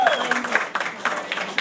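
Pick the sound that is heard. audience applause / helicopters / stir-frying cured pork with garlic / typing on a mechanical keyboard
audience applause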